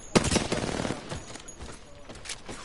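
Gunfire in the video game Apex Legends: a loud close burst of rapid shots, then scattered quieter shots and impacts that trail off, with no talking.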